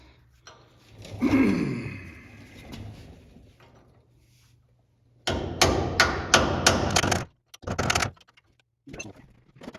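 Hammer blows on a Dana 70 axle trying to knock off an exploded bearing, a fast run of sharp metallic strikes followed by a second short burst, close and loud after a quieter stretch of shop noise.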